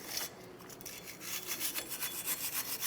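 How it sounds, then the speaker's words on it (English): A wire brush scrubs rust off the front brake hub face of a 2009-2015 Honda Pilot, quick rhythmic scratchy strokes repeating close up at moderate volume, with no voices. "You can use a wire brush here like we're doing and just clean up all around here."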